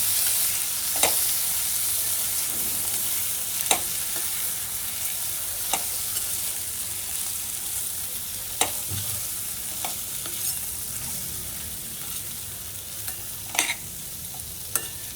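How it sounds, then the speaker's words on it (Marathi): Soaked chana dal and potato are stir-fried in a pan for a ridge gourd dish, a constant close sizzle under sparse, sharp spatula scrapes and taps spaced a couple of seconds apart, with no voices. "आणि भिजवलेली चणा डाळ सुद्धा टाकूया। सगळं व्यवस्थित मिक्स करून घेऊया।"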